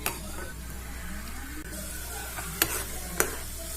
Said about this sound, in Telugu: ఆయిల్ హీట్ అయిన తర్వాత వేరుశనగ, ఇలా బాగా వేగిన తర్వాత